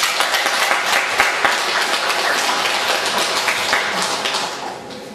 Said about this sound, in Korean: 경례의 박수 한번 할까요?